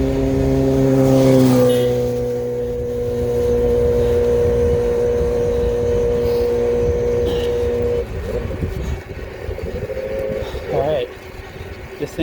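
A motor vehicle drones with a strong steady engine tone as it passes a Lectric XP Lite e-bike, loud and close at first, then fading into wind rush and road noise with a voice over it.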